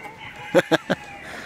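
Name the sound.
chicken clucking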